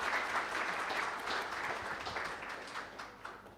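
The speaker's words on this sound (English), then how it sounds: "Please join me in giving another round of applause for Pak Havas." An audience claps in steady applause that gradually fades over a few seconds, with no talking.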